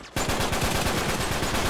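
Rapid automatic gunfire in an Uncharted 3 multiplayer team deathmatch starts abruptly and rattles on in an even, fast stream of close, loud shots.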